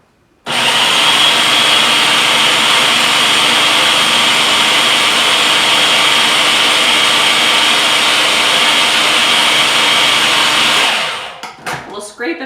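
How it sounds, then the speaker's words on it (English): Food processor blending chunky chickpea brownie batter, a loud steady motor whir that runs unbroken for about ten seconds before winding down, followed by a few faint clatters near the mic. "So I'm gonna just blend it so it's a bit smoother."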